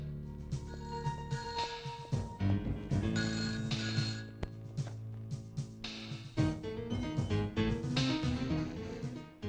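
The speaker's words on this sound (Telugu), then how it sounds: "Sir phone." A telephone rings in a police station over a loud, busy musical score, its tone partly buried beneath swelling instruments throughout.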